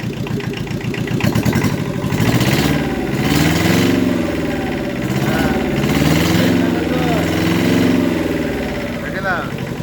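A small engine, apparently a motorcycle, kicks over and keeps running in a steady, loud idle close by, with people talking over it throughout.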